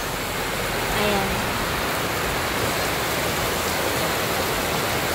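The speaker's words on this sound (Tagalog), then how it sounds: "So, tignan natin sa labas ang view kapag umuulan dito." Heavy rain pours down outside a house in a province at the start of the rainy season, a dense, constant hiss of downpour heard close and loud, with a brief swell near the start.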